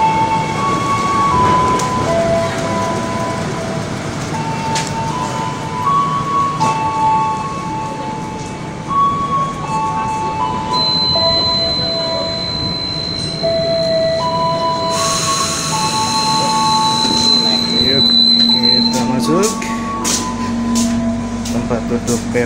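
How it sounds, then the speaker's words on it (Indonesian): Rumbling airport train interior with steady hum and clatter, chime-like tones and beeps sounding now and then, with people talking nearby. "kereta api bandara."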